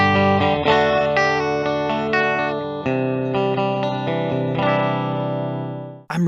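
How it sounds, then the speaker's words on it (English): A Gibson Les Paul Artisan electric guitar with three humbuckers, set to the middle pickup position, plays a short run of bright, chiming notes and chords through distortion and chorus effects, then fades out. "So if regular humbuckers in a 3-pickup configuration in the middle position sounds kind of like a Stratocaster"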